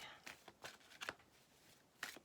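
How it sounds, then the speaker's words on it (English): Tarot cards shuffled by hand in three quick bursts, crisp papery riffles with short pauses between them, close and fairly quiet with no talking. "3 quick shuffles."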